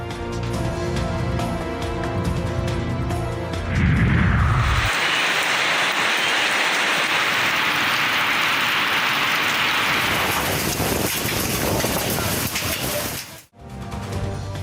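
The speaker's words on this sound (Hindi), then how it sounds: "लाहौर के मुख्तलिफ इलाकों में सुबह सवेरे बारिश" Steady rain falls in Lahore in the early morning as a dense, continuous hiss, loud and close, behind music at the start and before a brief cut near the end.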